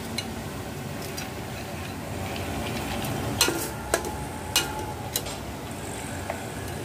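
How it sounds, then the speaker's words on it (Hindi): Minced meat and masoor dal cook together in a pan over softened tomatoes, with a faint steady sizzle and a few sharp clicks and knocks of utensils against the pan. "अब हम इसमें डालेंगे खीमा और मसूर की दाल, दोनों को एक साथ डाल के पकाएंगे।"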